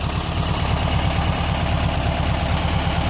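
A 1972 Volkswagen engine idles with a steady, rapid low chugging pulse and broad mechanical noise, loud and close, with no one talking.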